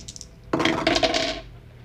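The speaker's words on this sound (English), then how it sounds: "There goes a penny." A penny coin drops onto a hard surface, giving one sharp metallic impact followed by a bright, ringing rattle that lasts about a second, close and fairly loud, with a faint click at the end.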